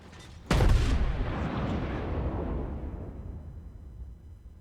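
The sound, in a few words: USS Texas battleship guns firing in video game World of Warships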